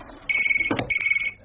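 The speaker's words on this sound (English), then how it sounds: "Geoffrey, why don't you answer the phone?" A telephone rings indoors in a house, a loud electronic two-tone trill in two clear bursts with a short gap, close by and with no talk over it.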